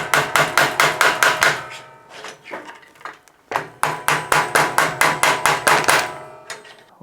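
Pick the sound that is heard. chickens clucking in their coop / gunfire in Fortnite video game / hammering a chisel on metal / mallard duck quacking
hammering a chisel on metal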